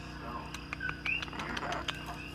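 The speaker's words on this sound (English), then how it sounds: "Oh, he's such a good bird." A pet bird gives a few faint, short chirps and tweets indoors, quiet and sparse, with a low background hum.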